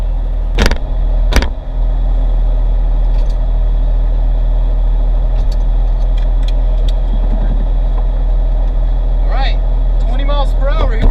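A Porsche 911 fitted with iPhones in place of brake pads runs along a road, its steady engine and road drone loud and continuous, with a couple of sharp knocks early on and brief squeal-like tones near the end.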